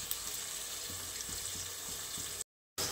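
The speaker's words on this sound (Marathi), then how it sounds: "कांदा आता आपल्याला छान असा लालसर परतून घ्यायचा आहे मस्त।" Onion sautés in a pan, giving a continuous moderate frying hiss with a few soft stirring taps and a brief cut to silence near the end, with no voices.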